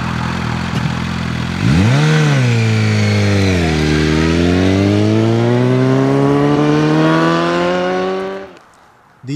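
A sport motorcycle engine, a Kawasaki ZX6R or Suzuki GSX-R750, revs up hard and close, its pitch climbing, dipping and rising again as the throttle is worked before cutting off abruptly near the end.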